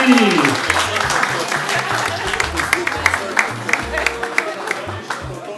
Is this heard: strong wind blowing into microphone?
no